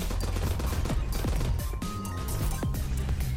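Enemy turrets in the space roguelike shooter Starward Rogue fire projectiles as rapid crackling bursts, with overlapping impacts and a low rumbling bed throughout, at moderate level.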